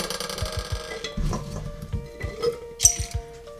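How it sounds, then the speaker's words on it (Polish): Radishes being packed into a glass jar for pickling, with light clinks and knocks of glass and small thuds spread irregularly, plus a short bright chime near the end. "Napełniam sobie słoik."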